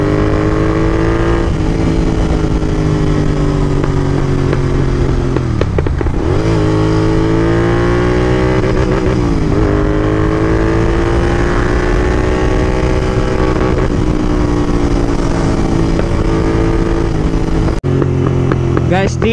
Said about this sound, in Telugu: ఎగ్జాస్ట్ సౌండ్ మాత్రం క్రేజీ ఉంది